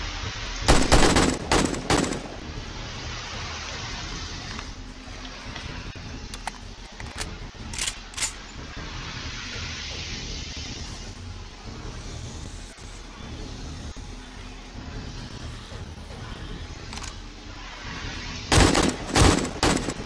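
Gunfire in the video game 7 Days to Die during a horde night comes in loud rapid bursts at the start and end, with scattered single shots and a continuous background din between them.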